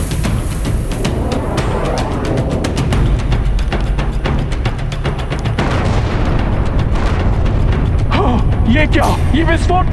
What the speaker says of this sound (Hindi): ये क्या, ये विस्फोट कैसा?